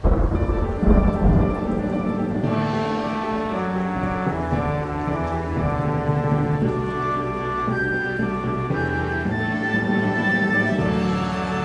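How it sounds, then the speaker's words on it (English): Rain and rolling thunder from a stage effect during a concert performance of the musical Little Women, a steady downpour with deep rumbles lasting throughout, sustained tones layered beneath, no voices. "Oh, it's raining."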